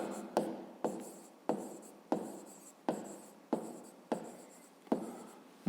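Pen on paper while working a fifth-grade math problem about area: about eight brisk, evenly spaced scratching strokes, close and quiet, each a short sharp onset fading away, no voices.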